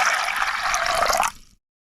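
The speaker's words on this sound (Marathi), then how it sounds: "आणि पाणी ओतायचं आहे, चण्यापुरतं असं पाणी ओतायचं आहे बघा." Water pours over chickpeas as a loud, close, continuous gush and splash for about a second and a half, then stops abruptly into silence, with no voices.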